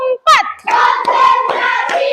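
A classroom of children claps along as a teacher counts aloud, with sharp hand claps punctuating her voice, close and loud in a short rhythmic sequence.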